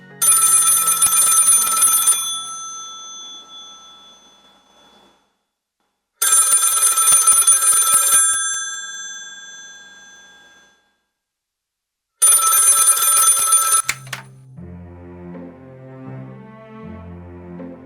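An old-style telephone bell rings loudly in three long, trilling bursts separated by pauses, each ring decaying away, with low music entering after the last ring.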